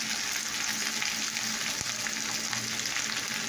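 Chilli, cumin and coriander powders fry steadily in a pan, giving a constant hissing sizzle at a low-moderate level with one faint knock partway through.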